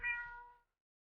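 A single short cat meow in the video game Cat President, a clear tonal mew that fades out within about half a second, followed by silence.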